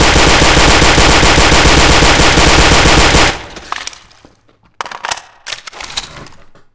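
Sustained rapid machine gun fire in Garry's Mod rattles loud and close for about three seconds, then stops, followed by a few scattered sharp cracks and impacts in quieter surroundings.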